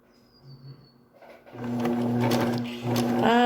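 A domestic sewing machine starts up after a quiet moment and stitches fabric in a steady, close whirring run, with a brief change in pitch near the end.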